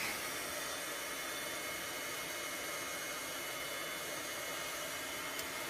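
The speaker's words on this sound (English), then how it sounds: "I am going to heat set this quick." Heat tool running steadily to heat-set ink on a card, a continuous loud blowing whoosh close by that holds level for several seconds, alone without talk.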